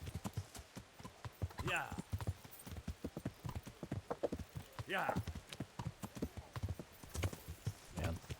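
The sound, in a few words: horse hooves clip-clopping in a medieval video game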